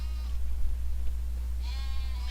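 Sheep in a farming video game, two drawn-out bleats, one brief at the start and one longer near the end, heard over a loud steady low hum.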